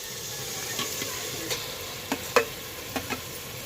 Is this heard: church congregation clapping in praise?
no